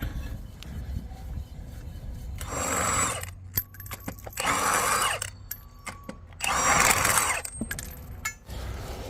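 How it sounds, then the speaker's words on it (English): Lug nuts on a Kia Carnival wheel being loosened with a hand wrench during a flat-tire change: three separate bursts of rapid ratcheting and cranking, each about a second long, with quiet gaps and no talking. "start taking your lug nuts off, lefty loosey. Just crank it like so."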